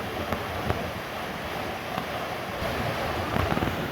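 A big river in the Appalachian hills, running high with rising water, gives a steady broadband rush of flowing water with a few soft bumps and gusts, close and continuous.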